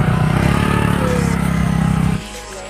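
A motorcycle engine idles loudly and close by with a steady throbbing rumble on a rainy rural road near a waterfall, then drops sharply in level after about two seconds as it cuts out or pulls away.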